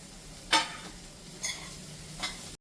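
Mushrooms being stirred in a frying pan for fried leftover rice, with three short scraping bursts over a faint steady sizzle, no talking.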